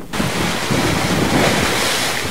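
Strong waves and gusting wind from Typhoon Odette off the coast of Tagbilaran City, Bohol, during a gale warning, with a loud, continuous roar of surf and wind buffeting the microphone throughout.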